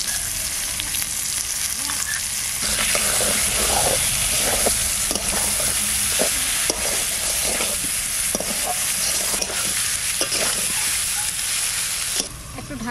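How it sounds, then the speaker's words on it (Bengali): Onion and garlic paste sizzles loudly in hot oil with potatoes and turmeric, in a village-style spiced fish-tail and potato dish. The frying hiss is steady and close, with occasional stirring clatter. "পেঁয়াজটা দিয়ে দেবো। পেঁয়াজটাও ভাজা হয়ে যাবে তেলে।"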